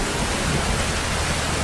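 Steady broadband hiss of rain falling in a Filipino movie scene, a constant dense wash with no breaks over the short stretch, moderately loud and with no voices.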